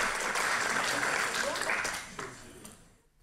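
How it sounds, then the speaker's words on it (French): Conference audience at a blockchain developer keynote applauding, a dense sustained clapping wash mixed with crowd voices, fading out toward the end. "Oui, applaudissez-le, encouragez-le là."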